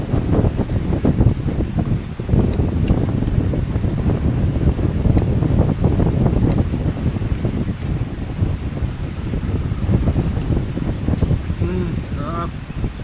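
Strong, continuous wind at a beach campsite in San Juan, Batangas, buffets steadily without a break, loud and close, roaring into the microphone while a person talks over it.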